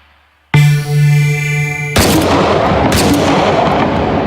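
Loud, dense gunfire in the VR shooter Hot Dogs, Horseshoes and Hand Grenades, a sustained rattling burst with booming echo and no voices.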